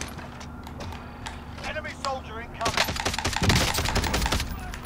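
Rapid bursts of gunfire in Call of Duty Warzone (Cold War era), DMR and HDR rifles, crack loudly through the second half after scattered lighter shots, with a player's voice talking over the shooting.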